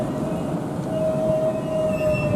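A Class 395 train stops at Thanet Parkway station on its opening day, giving a steady low rumble with a sustained whining tone throughout.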